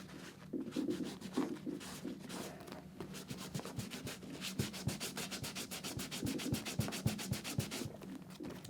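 Sportbike leather track gear is wiped clean after a crash, with a dry rubbing swish that starts slowly and then speeds into a fast, even back-and-forth scrubbing rhythm, close and fairly quiet.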